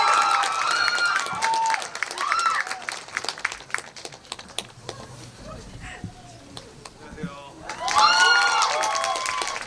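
Crowd applause with scattered cheers and calls rises at a film event, a screening Q&A for "Seoul Spring", mixed with excited voices; it thins midway, then swells loudly again near the end.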